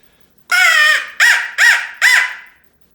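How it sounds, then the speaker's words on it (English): A roughly 100-year-old hand-blown crow call with a metal reed sounds four loud, raspy caws: one long drawn-out note followed by three shorter ones in quick succession, close and clear. "a crow call that's probably about 100 years old"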